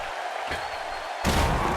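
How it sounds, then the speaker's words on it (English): A wrestling arena crowd in the WWE 2K16 video game, during a steel cage match, roars steadily and then surges much louder near the end. "This crowd going crazy for Stone Cold Steve Austin, who wants to go to WrestleMania"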